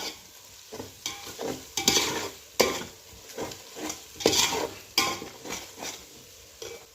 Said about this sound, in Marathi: कसुरी मेथी जरा एक मिनिटभर अशी परतून घ्यायचे म्हणजे त्याचा छान फ्लेवर उतरतो भाताला